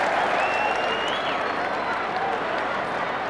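Large stadium crowd at an Australian football game applauding, a broad steady wash of clapping and roar heard from a distance, with a commentator talking over it.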